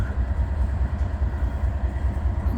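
Norfolk Southern freight train rolling past on the line north of Findlay, Ohio, a steady heavy rumble of rail cars and engine held at constant loudness throughout, with no talk.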